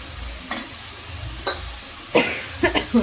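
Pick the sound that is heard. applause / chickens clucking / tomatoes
tomatoes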